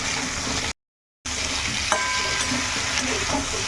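Sautéed vegetables with tomato sizzle in a pan as they are stirred, a close, loud, steady frying hiss with scraping strokes and a brief gap of silence near the start.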